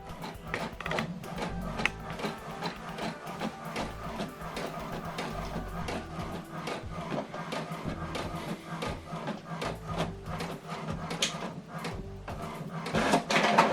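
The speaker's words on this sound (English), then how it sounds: "So we are printing this now from HP Smart App, and the document is printing." An HP printer runs a colour print job, with rapid mechanical clicking, whirring and rhythmic carriage shuttling that continue steadily at close range, with no talk over it.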